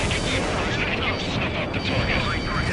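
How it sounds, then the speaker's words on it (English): Missile launch and impact in the combat flight video game Ace Combat, heard as a loud, continuous rumble of blasts and roaring bursts with voices under it. "Missile launched. Target hit."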